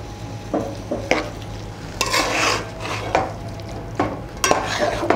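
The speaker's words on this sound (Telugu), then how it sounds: "సో మళ్ళీ చికెన్ అంతా వేసుకున్నాక బాగా కలుపుకోవాలి" Chicken cooking in ghee for an oats chicken biryani is stirred with a metal spoon, giving repeated scrapes and clinks against the pot over a low sizzle, close and intermittent.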